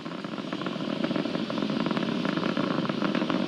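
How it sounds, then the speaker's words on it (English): The Merlin 1D engines of a SpaceX Falcon 9 carrying Starlink satellites roar during ascent, a loud, continuous crackling rumble with no voices. "We're throttling down right now on the Merlin 1D engines."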